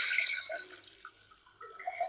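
Water poured from a tumbler into ragi flour in a home kitchen makes a splashy trickle that starts strong and then thins into faint intermittent drips and small splashes, close by, with no talk.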